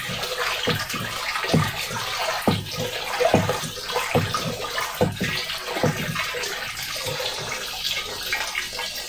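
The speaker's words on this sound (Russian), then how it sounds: "Берем, перемешиваем наше сусло с дробиной." Whisky malt wort is stirred with its spent grain, giving continuous sloshing and swirling liquid sounds with rhythmic splashes from repeated strokes, moderately close and steady throughout.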